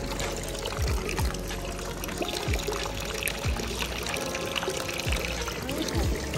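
Clean water falling from a tap in Switzerland, with a steady splashing, trickling wash close by and a few faint drips and knocks.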